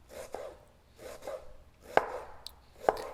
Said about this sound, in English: So first cut it in one side one way and then flip it over and then cut it again.